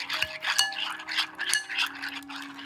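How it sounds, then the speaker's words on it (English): A spoon stirs a pumpkin mixture with vanilla in a bowl, giving soft scraping and clinking strokes in a steady rhythm, close and fairly quiet. "Mix it up pretty good."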